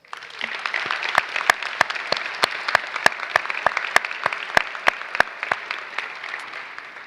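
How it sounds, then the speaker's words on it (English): Audience applause at a spring 2018 commencement ceremony, a steady wash of clapping with sharp individual claps standing out throughout, moderately loud and continuous with no talk over it. "Please join me in giving them a round of applause."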